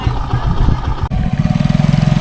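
Several motorcycles idle and putter nearby in a parking area, a steady close engine chug with rhythmic pulsing that grows more regular toward the end.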